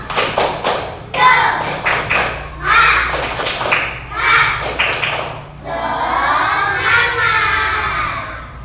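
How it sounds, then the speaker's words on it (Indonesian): Children perform a rhythmic clapping chant during a group briefing: bursts of shouted chanting punctuated by sharp collective claps in a steady pattern, ending in a sustained group cheer, loud and close. "ayo semangat tepuk-tepuk ya, tepuk semangat"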